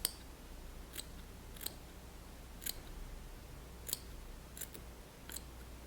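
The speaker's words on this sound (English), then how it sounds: "So just keep kind of trimming it down, looking at it." Small scissors trimming material on a fly-tying pattern give about seven quiet, crisp snips at uneven intervals over a low background hum, with no talking.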